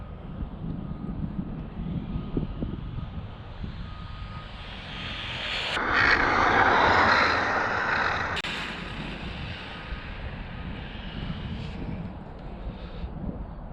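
A Traxxas Rustler RC car runs at high speed, a steady engine-like whine that swells loudly as it passes close midway, then fades back to a distant drone, with wind noise throughout.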